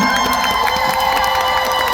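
A concert crowd in Gangneung cheers loudly from the back of the hall, a dense, sustained roar of voices with high-pitched shouts rising above it throughout.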